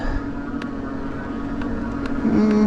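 A Mokwheel Tarmac e-bike motor whines under throttle over steady wind rush, and a tonal hum rises and strengthens near the end.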